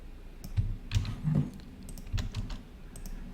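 A computer mouse clicks in an office software session, a handful of light, close clicks in an irregular rhythm over quiet room tone.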